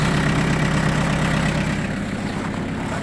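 A Mitsubishi MT1801D four-cylinder mini tractor engine idles steadily and loudly close by, a dense low rumble that puffs small clouds of smoke, with no talk.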